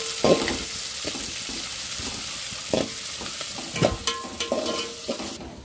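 Green chilies, onions and fenugreek seeds fry in a pan with a steady close sizzle, broken by several louder scrapes and clatters as a utensil stirs them.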